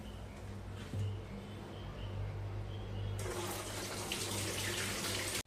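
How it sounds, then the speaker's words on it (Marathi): Water poured over soaked wheat in a sieve splashes steadily, then pours harder and louder toward the end, a close rushing flow with a low hum underneath. "चाळणीवरती पाणी ओतायचं"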